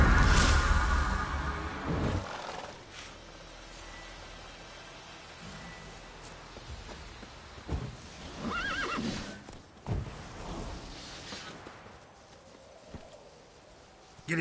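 A horse whinnies and hooves clip-clop over a steady noisy background, with a loud burst at the start and a few sharper knocks and cries later on.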